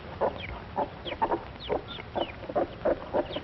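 Several Plymouth Rock chickens cluck in short, irregular bursts, fairly quiet and nearby, with soft peeping calls mixed in over a low background, in a 1937 recording.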